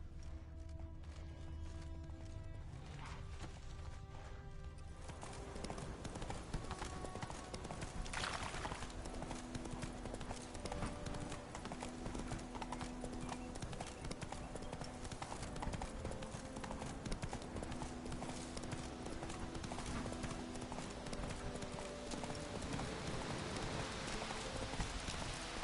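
Hoofbeats of Roach, a horse in a video game, clip-clop steadily throughout, running at a brisk pace over a continuous bed of game music and ambience.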